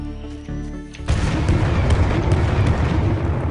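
Artillery strike in the sci-fi shooter game Firefall, heavy booming explosions that erupt suddenly after a quieter start and roll on as a dense, continuous barrage of blasts.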